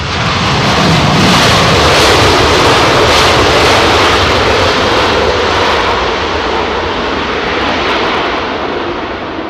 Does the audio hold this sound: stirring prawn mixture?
no